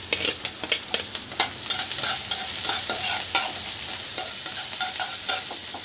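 Chopped garlic and green chilies sizzle in hot oil in a pan while being stirred, giving a bright steady frying hiss broken by quick scraping stir strokes close by, with no talking.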